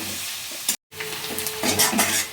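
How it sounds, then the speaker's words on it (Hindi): Chopped onions frying in a pan for a vegetable dish, a close, loud sizzle with stirring scrapes, interrupted by a brief gap and then swelling again with stronger spatter. "प्याज को थोड़ा हम भून लेंगे, हल्का सा पिंकिश होने तक इसे भून लीजिए"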